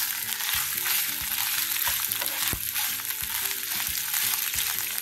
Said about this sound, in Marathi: हे आपण आता फ्राय करून घेतो।